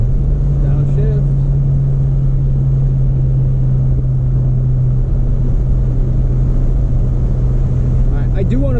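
A modified turbocharged 10th-generation Honda Civic Si engine drones steadily and loudly from inside the car, a constant deep rumble with no clear gear-change break.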